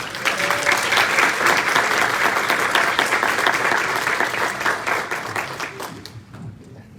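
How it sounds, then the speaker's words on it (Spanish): Sustained, loud audience applause welcoming a keynote speaker to a lecture on the Mexican school, continuous dense clapping that fades toward the end. "Recibámosla con un fuerte aplauso, por favor."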